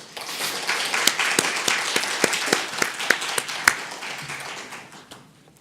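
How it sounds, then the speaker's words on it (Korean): A church congregation gives a round of encouraging applause during a Sunday service, dense clapping with a few sharp louder claps that fades out after about five seconds. "자, 뭐 격려의 박수."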